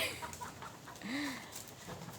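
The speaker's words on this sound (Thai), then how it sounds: "โอ้เสียงไก่" A chicken gives a few soft clucks at a distance, faint over steady outdoor background noise.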